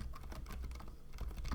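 Rapid typing on a GamaKay TK75 mechanical keyboard fitted with Pegasus silent switches, a steady muffled patter of close keystrokes with no voices.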